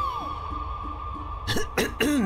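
A character clears its throat in an island adventure game: three short, rough bursts in quick succession near the end, over a steady low tonal background.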